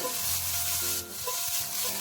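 Meat slices stir-fried in a hot, oiled non-stick pan over medium heat give a steady close sizzle broken by scraping stirs and brief clatters, with no talking.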